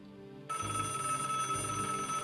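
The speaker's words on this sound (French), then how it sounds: "Ça, c'était un téléphone, ok." A telephone rings in the Broken Sword adventure game (Les Chevaliers de Baphomet): a steady electronic trill that starts after a short quiet lead-in and keeps going, close and clear.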